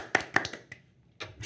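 A few scattered hand claps from a small group of hosts on a toy podcast, sharp isolated claps with gaps between them, close and fairly quiet.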